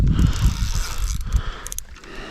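A fishing reel on a feeder rod is cranked to wind in line while fishing on a river in spring, a close mechanical ratcheting whir in short uneven bursts, no talking.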